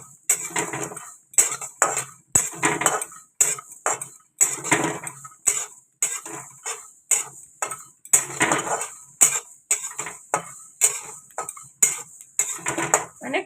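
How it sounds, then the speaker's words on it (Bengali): Repeated scraping and clattering of a utensil against a pan, dry-roasting mustard, cumin and white sesame seeds, in steady strokes, close by, with no talking. "সাদা তিল দিয়ে এবার এটাকে ভালো করে একটু ভেজে নেব"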